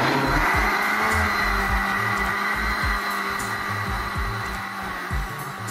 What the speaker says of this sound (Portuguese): depois de ter feito aí, né, ter batido a mistura aqui no nosso liquidificador